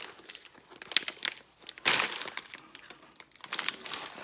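Crinkly plastic wrapper of a Chinese chip snack being handled and torn open, with scattered crackles and a louder burst of crinkling midway, close and fairly clear.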